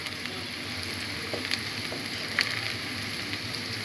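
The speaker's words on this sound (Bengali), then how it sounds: "এই পেঁয়াজগুলোকে আমি একটু হালকা লাল লাল করে ভেজে নিব।" Three large onions, chopped, fry in oil in a pan for a Bengali tel koi fish dish, giving a steady soft sizzling hiss with a few faint pops and no talking.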